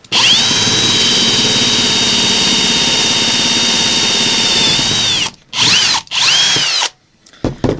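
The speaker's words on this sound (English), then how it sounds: "Aluminum is really soft, so it's not even that hard to drill a hole through it." A power drill whines loudly and steadily, close by, drilling through aluminum, then stops and starts in a few short bursts near the end.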